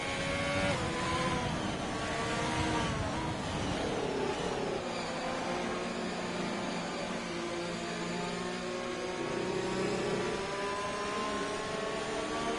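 Race cars in a sim racing game at Monza lap under the safety car, engines droning steadily with shifting revving tones and layered overlapping whines throughout, loud and continuous with no talking.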